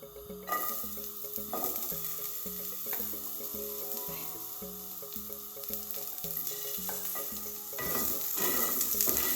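Garlic and carrot fry in a little oil for Caribbean-style fried cod, a continuous close sizzle with rhythmic stirring and clinks of a utensil against the pan, over a repeating background music beat.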